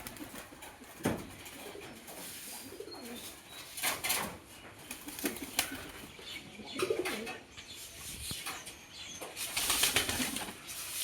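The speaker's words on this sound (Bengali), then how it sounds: "আরে ও, কবুতরগুলো ভয় পেয়ে গেছে" Startled pigeons flap their wings in repeated sharp, noisy bursts, mixed with soft cooing from a flock close by, while a person talks intermittently.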